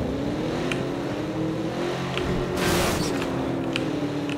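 Car engine in PUBG Battlegrounds driven low on fuel, a steady loud drone whose pitch sweeps upward as it revs, with a short burst of noise partway through.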